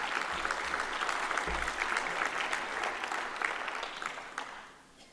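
A congress audience applauds at a national tourism congress speech in Chambéry, a dense steady wash of clapping from many hands that fades out toward the end.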